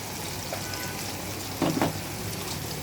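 Potato and pointed gourd frying in a pan for egg dolma, a soft steady sizzle with a brief louder scrape of stirring partway through.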